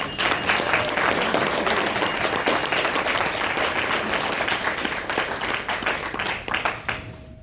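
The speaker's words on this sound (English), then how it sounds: "Can we please have a huge round of applause?" A breakfast audience breaks into hearty, sustained applause, loud and close, with scattered cheers that thin out and fade near the end.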